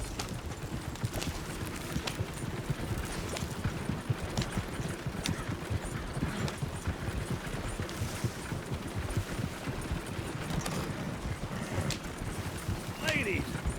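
A horse gallops in Red Dead Redemption 2 with steady, rhythmic hoofbeats that run throughout, close and moderately loud, while people talk over the hooves.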